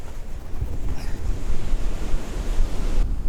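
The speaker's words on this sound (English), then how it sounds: "It looks like there's some good waves that are breaking on the shore." Ocean waves break on the shore at Seroe Beach in Aruba, a steady roar of surf mixed with gusty wind buffeting the microphone, loud and close.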